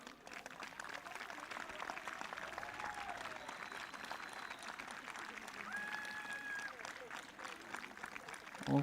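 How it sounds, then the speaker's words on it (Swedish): Applause at a gymnastics championship finals ceremony as a gold medallist takes her place, steady sustained clapping from the arena crowd, fairly distant and even, with a brief louder burst at the end. "Nu ger vi dem en applåd till"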